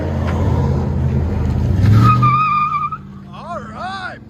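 A GMC Sierra with a 5.3L V8 and Flowmaster Flow FX exhaust rumbles loudly as it accelerates away. The engine note fades and is followed by brief tire squeal and distant chirping noises.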